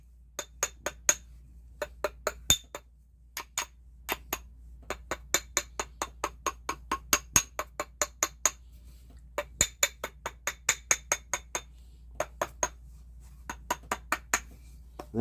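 Rapid metallic tapping of a small hammer on a silver coin ring, bright ringing clinks in quick bursts with short pauses between runs, close and clear.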